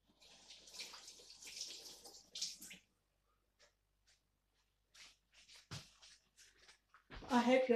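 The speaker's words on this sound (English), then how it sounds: "I'm gonna go and wash my hands" Hand washing under a running kitchen tap before cooking Liberian pepper sauce, with a steady water rush for the first few seconds, then scattered splashes and drips, and a voice speaking at the end.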